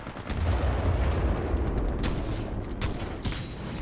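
Gunfire in the shooter Titanfall 2 rattles as a dense run of repeated shots, with sharp, loud cracks clustering in the second half over a rumbling low background, no voices.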